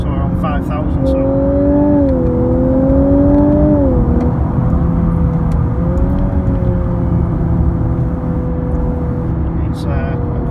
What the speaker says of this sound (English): We can go into manual mode. It likes being high rev.